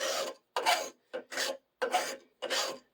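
A metal wire tip being filed smooth while rewiring a chandelier, heard as five steady back-and-forth rasping strokes, each about a third of a second long with short silent gaps between them, close and clear.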